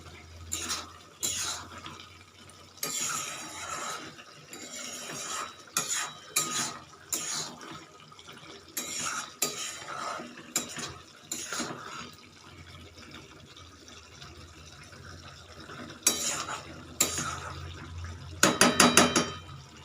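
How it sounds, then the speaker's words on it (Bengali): Mushroom curry stirred in a pan after the lid is lifted: irregular metallic clinks and scrapes of a spoon against the pan, with a brief lid clatter, close and moderate, in uneven bursts. "আবার 5-7 মিনিট পরে একবার ঢাকনাটা খুলে নেড়ে দেব।"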